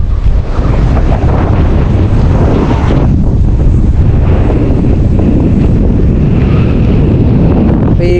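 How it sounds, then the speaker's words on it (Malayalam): Strong wind sweeps continuously across the open hilltop viewpoint at Kalyanipara in Idukki, a loud, steady roar of buffeting against the microphone with no pause, and no voices. "അയ്യോ കണ്ടിന്യൂസ് ആയിട്ടുള്ള കാറ്റ്."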